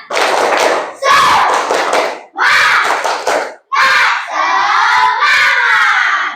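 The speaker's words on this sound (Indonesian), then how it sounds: "Tepuk semangat." Schoolchildren in a classroom doing a spirit clap, loud and close, in rhythmic bursts of clapping and shouted chanting that stop and restart several times, ending in a sustained group cheer.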